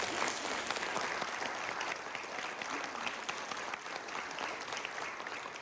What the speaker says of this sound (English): can we please give all of these candidates a round of applause?